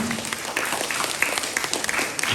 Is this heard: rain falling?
no